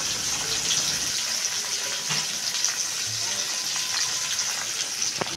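Fish sizzling in hot oil in a pan for a desi machha curry, a constant bright crackling hiss with small pops, steady and close throughout.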